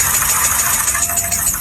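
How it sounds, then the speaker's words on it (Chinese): A car engine with a piston knocking fault runs steadily up close, a continuous idle with a fine rapid ticking texture, loud and alone with no talk. "发动机敲缸异响"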